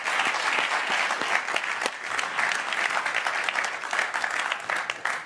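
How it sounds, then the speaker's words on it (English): A keynote audience bursts into dense, sustained applause, a loud, continuous roar of many clapping hands that holds steady for over five seconds with occasional sharper individual claps. "give them all a round of applause"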